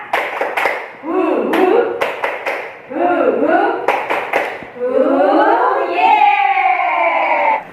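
A classroom group of teachers claps in a brisk, patterned rhythm while voices chant along, ending in a loud collective shout.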